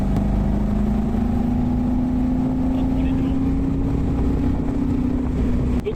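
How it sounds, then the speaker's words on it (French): Chevrolet Corvette C1 engine and exhaust while driving, a steady loud drone with wind noise, the engine note rising slowly as the car pulls. "le moteur fait un bruit incroyable, l'échappement c'est super agréable à l'arrière"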